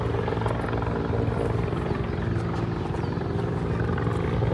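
Helicopter rotor noise fills the whole stretch with a steady, fairly loud overhead drone and thumping wash, heard alone without talk.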